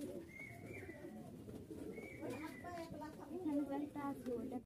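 Male Hatbaji pigeon cooing close by, repeated soft throaty coos and warbles with a few chirps among other birds, while someone speaks over them.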